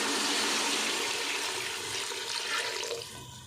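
Water pours into a pot of daliya khichdi (vegetable broken-wheat porridge), a loud, continuous gushing splash close by that tapers off near the end, with no talking.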